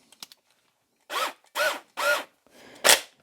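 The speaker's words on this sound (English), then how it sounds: "drill a hole for the screw" A power drill bores a hole for a screw while building a lamp from junk and spare parts, three short whirring bursts then a sharper, louder final burst, close up, after a few small clicks.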